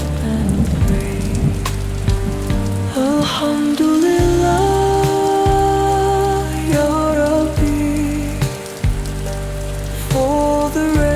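Steady rain patters beneath devotional singing with sustained melodic music, forming a soft continuous wash under the voice throughout.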